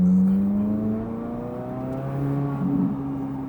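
A custom show car's engine idles and revs gently inside an exhibition booth at a Las Vegas trade show, a close, steady hum that rises and falls slightly in pitch, with no talking.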